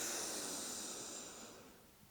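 A child breathes in during a yoga exercise, a single long, airy hiss of inhalation that fades gradually over about two seconds, close and soft, with no talk over it.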